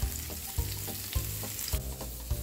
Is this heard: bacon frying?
yes